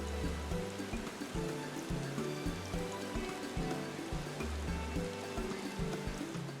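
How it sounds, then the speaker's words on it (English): Steady rainfall in Final Fantasy XIV Dawntrail, a soft continuous patter and hiss that holds at a low, even level beneath a gentle looping musical background. "it's raining again"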